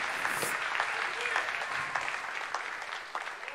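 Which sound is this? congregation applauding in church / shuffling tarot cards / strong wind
congregation applauding in church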